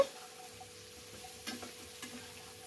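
Bitter gourd fries in oil with a faint, soft sizzle, broken by a few light scrapes and taps of stirring in the pan.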